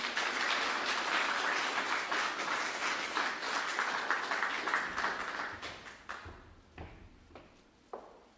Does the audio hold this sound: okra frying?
no